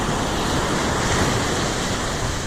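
Surf rolling onto a beach in St. Lucia, a loud, steady wash of waves mixed with wind buffeting the microphone, with no voices.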